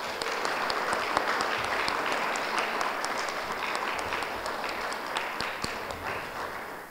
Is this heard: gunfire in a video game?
no